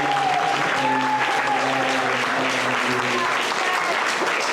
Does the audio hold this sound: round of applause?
yes